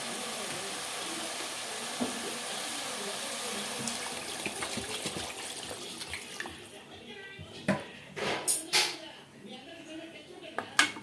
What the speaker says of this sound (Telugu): మనం వాటర్ పోసేసేద్దాం